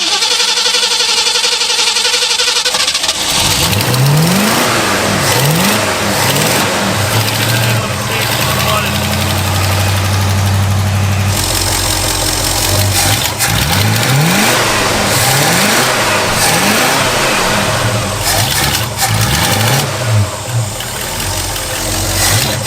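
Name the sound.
1960s Ford Galaxie engine cranking and revving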